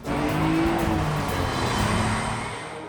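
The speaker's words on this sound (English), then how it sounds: "Jay, we're riding in one of the most noted of all Bugattis" A 1937 Bugatti Type 57 on the move, its engine giving a steady, loud, close drone with a faint rising tone, easing off slightly toward the end.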